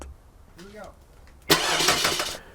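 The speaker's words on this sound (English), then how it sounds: "So can it start a car?" A car engine cranks and catches on a 12V sodium-ion battery, bursting into a loud, close start after a moment of quiet speech, then settling into a steady run.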